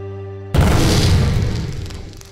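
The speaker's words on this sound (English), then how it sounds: "Oh, another bomb. A whole slew of bombs." Bomb blast in the VR video game Tea For God: a sudden loud, close boom erupts after a low hum, then a long rumbling decay that tails off over two seconds.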